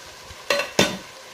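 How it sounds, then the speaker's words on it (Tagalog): Chicken afritada stirred in a pan: two quick, close scraping strokes of a utensil through the sauce and meat, each with a short sizzling tail, over a quiet background. "Haluin natin."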